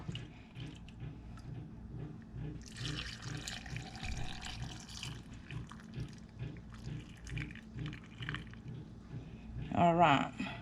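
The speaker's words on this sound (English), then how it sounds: "we're just gonna fill our jar" Glazed carrots and their liquid are ladled into a canning jar during pressure canning, giving a steady wet pouring and sloshing sound under ongoing talk, with a brief clink of glass near the end.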